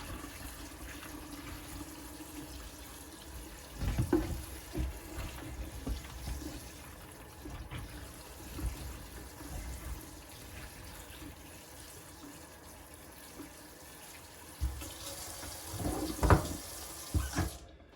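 Dried beans rinsed under a running kitchen tap, a steady stream of water splashing into a sink with louder surges and clatter around the midpoint and near the end.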